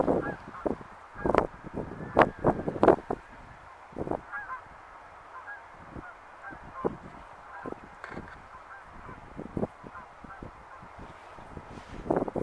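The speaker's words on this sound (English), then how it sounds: "There's geese flying off." Geese take off and fly away near a drilling barge, honking repeatedly in scattered, overlapping calls, some close and loud, others fainter, with occasional thuds and flapping.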